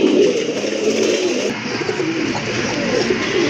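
Male black Indian Bombay pigeon cooing continuously at close range, a steady low throaty coo that fills the whole stretch alone, with no talk over it.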